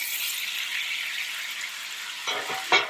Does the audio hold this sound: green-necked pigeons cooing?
no